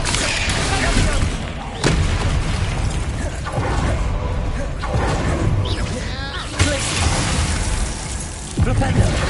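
Bombarda blasting spell explosions in the video game Hogwarts Legacy: loud, dense booms and crackling bursts over busy mechanical game noise, with sharp blasts striking near 2, 6.6 and 8.7 seconds and a vocal sound running underneath.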